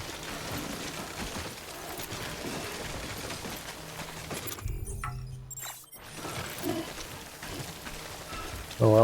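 Steady rain pours down in the game Death Stranding, a dense, continuous hiss across the whole stretch. It briefly drops out near the middle, leaving a low rumble, before returning at a moderate level.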